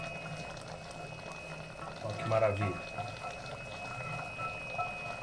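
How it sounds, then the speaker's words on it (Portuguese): A chicken gizzard sauce bubbles and simmers in a pan, a soft, continuous low bubbling with a brief louder burst midway, under a man's spoken remarks. "já está dando uma cozida no nosso molho"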